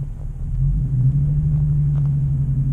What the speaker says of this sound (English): This car's really loud.